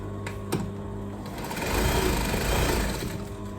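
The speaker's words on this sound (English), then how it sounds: "So I'm gonna stitch a little bit, about 1 inch up" A sewing machine runs steadily while stitching a pocket on a gathered skirt, its motor whirring close and loud for a few seconds after a couple of brief clicks.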